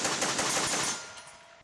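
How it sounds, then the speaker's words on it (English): Browning Automatic Rifle firing a 10-round burst, a loud rapid stream of gunshots blurring together into a roar that cuts off and leaves a short fading echo. "a 10-round burst shot"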